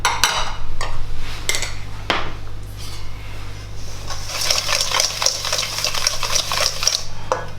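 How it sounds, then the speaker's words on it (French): Sugar and softened butter are mixed by hand in a bowl, with repeated scraping and clinking strokes of a utensil against the bowl and a faint steady hum underneath. "on va commencer par mélanger le sucre et le beurre"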